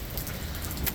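Rain falling outdoors, a soft steady patter with scattered drop impacts, faint and without any voices.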